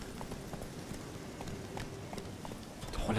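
Horse hooves clip-clop at a quick gallop in the video game The Witcher 3, a steady run of fairly faint hoofbeats with no talking.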